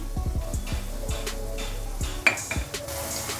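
A sprig of curry leaves added to hot oil and tomato masala for chana masala crackles and sizzles, with several sharp spoon clinks against the pan before a burst of spitting oil.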